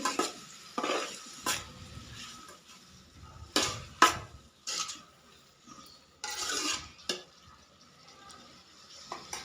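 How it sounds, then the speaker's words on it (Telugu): Tomato pieces frying in a pan of ivy gourd curry, with a steady soft sizzle broken by repeated scraping strokes of a spoon stirring against the pan, close and moderately loud. "ఇందులో ఇప్పుడు టమాటా ముక్కలు వేసుకోవాలి బాగా ఫ్రై చేసుకోవాలి బాగా ఫ్రై అవుతుంది చూడండి"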